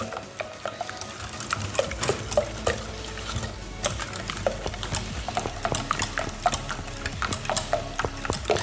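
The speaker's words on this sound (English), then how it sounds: "we're gonna whisk them in really, really quickly" Eggs whisked quickly into pecan pie filling in a bowl, a steady rapid clatter of the whisk against the side, close and continuous with sharper clinks throughout.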